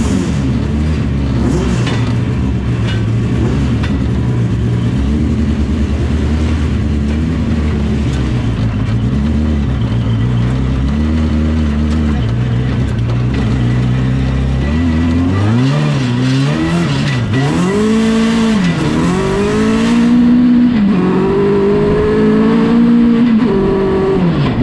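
A Legends race car powered by a Yamaha engine runs at full throttle, its loud, close engine roar holding steady and then rising and falling in repeated sweeps as it accelerates and shifts, with no talk.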